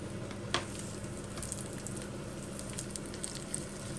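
Oil sizzles steadily in a hot wok as garlic and ginger fry, a constant crackling hiss with a few light scrapes and clinks.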